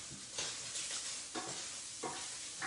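Pancetta sizzles in a pan for spaghetti carbonara while a spoon stirs it in a few scraping strokes, the steady frying hiss close and unbroken beneath them, with no talk.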